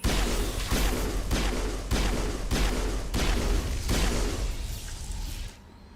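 Pistol shots in the video game Mass Effect ring out in a steady, fairly slow series of about six loud cracks with overlapping echoes, cutting off abruptly near the end; no voices.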